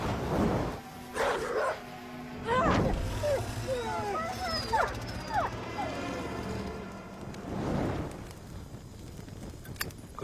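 In a scene from a Punjabi film, a dog barks and yips in short, scattered bursts with some whimpering, mixed in with people talking over it.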